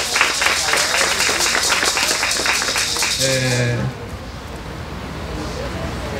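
Audience applause at a panel on Indigenous rights, a dense, steady patter of many hands clapping for a few seconds, then cutting off into quieter room noise.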